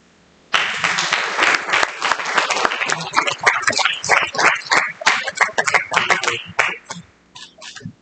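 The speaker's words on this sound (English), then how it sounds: "Please give them a big round of applause." An audience claps for a speaker being welcomed at an architecture department training event, a sudden burst of dense applause that swells, holds, then thins into scattered claps before fading.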